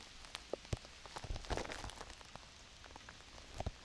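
Raindrops pattering during Hurricane Irene, heard as scattered, irregular taps on a surface at a fairly faint level, with a few sharper drops standing out against a soft background hiss.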